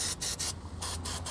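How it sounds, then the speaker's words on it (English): Penetrating oil sprayed onto the rubber exhaust isolators beneath a 2018 Chrysler Pacifica during a trailer hitch installation, several close hissing bursts separated by brief pauses. "we're gonna take some sort of penetrating oil. We're gonna be spraying down our two rubber isolators."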